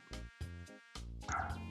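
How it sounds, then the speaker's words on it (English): Several dogs bark in short yipping bursts, close and fairly loud, about five barks in under two seconds with uneven gaps, one rising into a higher whine at the end. "I'm really sorry about these dogs"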